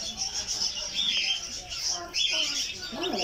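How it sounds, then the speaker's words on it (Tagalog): Newly hatched Cornish Bantam and Silkie chicks peep inside an incubator, their high, thin chirps coming close and repeated in a busy overlapping chatter over a steady mechanical hum. "Dahil ngayon ang araw na mayroon tayong mga pa-hatch na sisiw."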